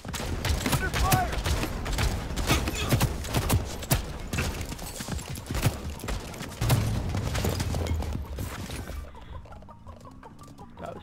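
Rapid gunfire crackles through a video game firefight, dense sharp shots in uneven bursts for most of the stretch before dropping away to quieter background near the end, with talk mixed in underneath.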